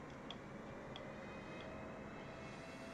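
An airplane engine hums steadily in Microsoft Flight Simulator 2024, a faint, even drone with no clear rise in pitch.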